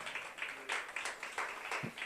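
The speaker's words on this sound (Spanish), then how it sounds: "Póngase de pie y dele un aplauso de alabanza al Señor en esta hora" A church congregation applauds in praise during a Spanish-language sermon, a quiet, steady run of rapid hand claps in bursts, heard faintly and from a distance.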